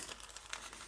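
Thin tissue paper crinkling as it is handled over a gel-printing plate while stenciling a collage, a quiet, soft rustle with a few light crackles over just under a second, no voices.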